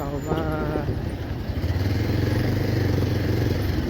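A motorcycle rides over a rough, bumpy road, its engine a steady close drone with rattling and clatter from the bike and surface throughout.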